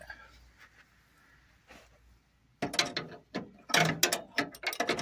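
A hand ratchet clicks in quick bursts while bolting down a VW bus drag link steering arm, the loud close ratcheting starting midway after a quiet stretch.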